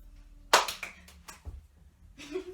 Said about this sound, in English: Lots of claps that time, but no catch.